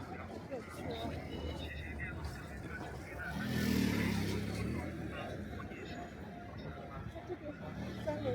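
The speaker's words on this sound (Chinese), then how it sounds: "这边三轮车怎么开这么快？" A motor tricycle speeds along a city street in Yinchuan, China, its engine swelling louder as it passes midway through a steady traffic rumble, with a murmur of voices in the background.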